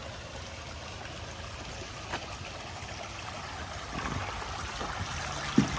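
Stream water flows steadily beneath a bridge in a Canadian forest, a continuous soft trickling wash with a few brief knocks near the end.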